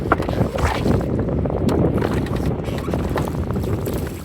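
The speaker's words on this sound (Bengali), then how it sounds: "সেই সাম্পানগুলো চালাতে এখন আর লাগে না বৈঠা। ইঞ্জিনের শব্দে ছুটে চলছে আপন গতিতে।" An engine-powered sampan boat on the Karnaphuli River gives a steady, loud, low rumbling drone that runs throughout, with wind buffeting the microphone and no talking.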